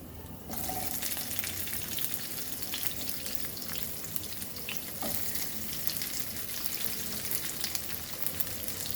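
Onion dropped into a pan on a low flame, sizzling steadily right after an opening clatter, with occasional stirring scrapes and a watery hiss throughout, close and unaccompanied by talk.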